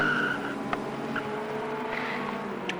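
Race cars in a sim racing game whine faintly in the background with a thin, steady engine tone, with no talk.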